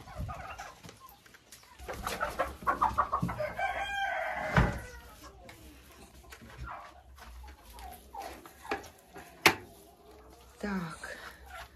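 Old hens in a middle coop pen cluck and squawk at varying distances while a rooster crows and a dog barks, with a person talking over the flock noise.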